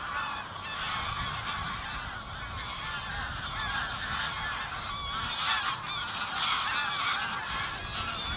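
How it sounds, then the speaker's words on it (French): A flock of wild geese honking in flight over summer polders, a dense, continuous chorus of overlapping calls at moderate distance, steady throughout with wind-like noise underneath. "Les oies sauvages."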